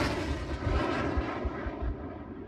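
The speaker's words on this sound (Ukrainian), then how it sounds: "Зараз з передньої лінії буде злітати дрон" A military drone lifting off from a front-line position, its engine making a steady, loud drone that stays constant with no voices.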